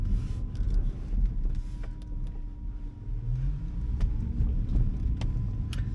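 Small Baojun E100 Chinese electric city car on the move, giving a steady low rumble of road and cabin noise throughout with a few faint clicks and a brief rising whine midway, no talking.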